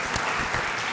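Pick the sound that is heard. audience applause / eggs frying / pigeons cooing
audience applause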